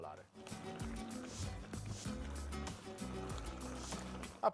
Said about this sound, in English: at this point, I'm ready to drain the Calamarata.